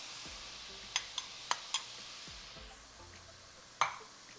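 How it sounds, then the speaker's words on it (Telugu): Chicken and vegetables are stirred in a pan, with a faint sizzle under several sharp metallic clinks of a spoon against the pan, spaced irregularly and one louder tap near the end. "వెజిటేబుల్స్ యాడ్ చేసుకొని ఒక 2 నిమిషాలు ఇట్లా కలుపుకొని"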